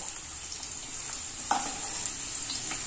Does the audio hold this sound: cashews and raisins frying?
yes